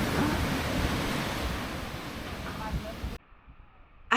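Sea waves washing onto the beach at Koh Samed, Thailand, a soft steady wash of surf heard close by with some wind, cutting off abruptly near the end.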